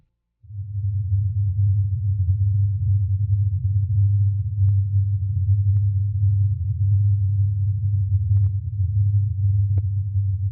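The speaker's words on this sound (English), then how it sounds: "the most commonly reported noise is a low-frequency hum that persists in the area" A steady, loud low-frequency hum drones on without a break after a brief silent start, the persistent hum reported in the area, with only a few faint ticks above it.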